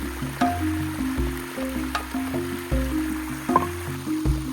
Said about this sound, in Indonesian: Sekarang aku akan mencucinya di sungai.